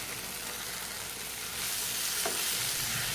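Grated coconut sautés with softened onion and tomato in a pan, a constant soft sizzle and hiss that swells slightly partway through, with one light stirring scrape.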